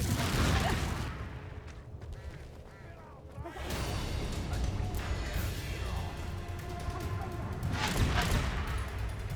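Confringo blasting spell explosions in Hogwarts Legacy, loud booming blasts with crackling debris, a big burst at the start and another near the end, over continuous game ambience with a player voice at times.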